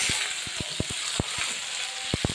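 Radish greens and small shrimp sizzle in a pan while a spatula stirs them, producing a steady frying hiss broken by sharp, irregular scraping taps up close.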